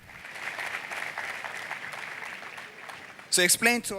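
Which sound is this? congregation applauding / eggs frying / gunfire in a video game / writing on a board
congregation applauding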